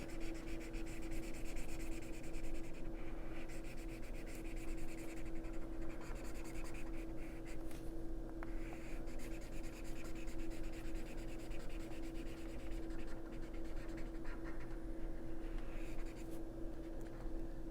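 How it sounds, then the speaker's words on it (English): A teal marker colors in a tiki mask drawing on paper, giving a steady, close-up scratchy rubbing of felt tip strokes that runs continuously without any talking. "I'll make that teal, because we haven't used teal yet."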